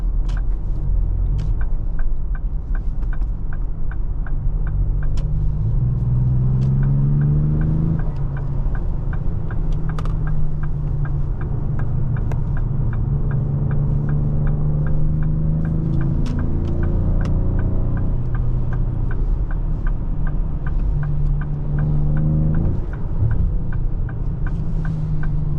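A 2025 Ford Explorer ST on the road gives a steady low engine drone and tyre rumble, with the pitch rising and falling as it accelerates through gears, plus faint regular ticking over the continuous cabin noise.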